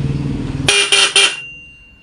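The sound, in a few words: car stock horn honking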